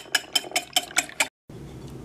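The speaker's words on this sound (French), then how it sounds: "Dans un saladier, je fouette mes œufs." Six quick, rhythmic clinking strokes of a whisk beating eggs in a bowl, evenly spaced, followed by a brief silence and a low background hum.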